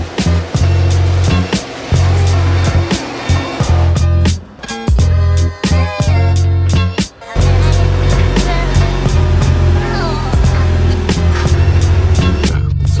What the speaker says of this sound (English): Taking it out on the test drive. I've driven it up the hill.